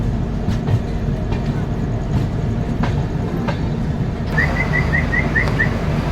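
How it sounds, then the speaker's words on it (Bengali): A Garib Rath passenger train rolls slowly through Kamakhya Junction, a steady low rumble of wheels and carriages close by, with faint rhythmic clicks and a short series of high tonal beeps near the end. "slowly slowly Kamakhya junction skip করছে"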